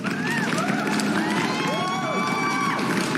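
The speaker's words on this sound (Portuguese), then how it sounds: "Eu dou palmas pra minha esposa, palmas pra minha esposa, ó." A crowd applauds and cheers in a sound effect: dense, continuous roar with high whoops and shouts rising over the top, loud and sustained throughout.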